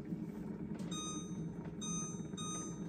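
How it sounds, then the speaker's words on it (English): Kitchen timer being set while making a blueberry cobbler, giving a few short, sharp electronic beeps in bursts against a quiet room background. "I'm gonna put the timer on for about 15 minutes."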